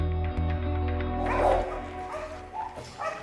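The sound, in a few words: dogs barking at military kennel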